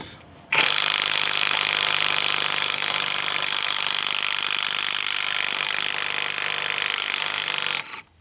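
An AutoJare 20V battery impact driver breaking lug nuts loose on a wheel gives one sustained, close, rattling hammer-whir lasting about seven seconds, starting and stopping abruptly, with no talking.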